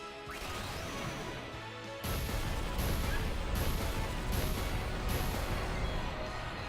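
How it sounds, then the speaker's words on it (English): Overdrive fire bursts of Heat Blaster in Final Fantasy X strike as a loud, dense burst, followed by five evenly spaced crashing impacts, each with a bright hiss over a booming, crackling wash. "Heat Blaster. It deals 5 small fire bursts to random enemies."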